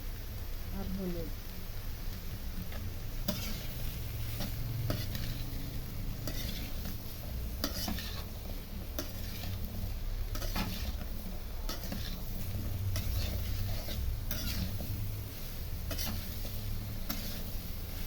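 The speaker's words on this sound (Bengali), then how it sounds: "মশলাটার সাথে লাউ সুন্দরভাবে নাড়াচাড়া করে নেব।" Bottle gourd being stirred with spices, salt and turmeric in a pan, a continuous soft sizzle under scattered ticks and scrapes of a utensil against the pan, steady and close throughout.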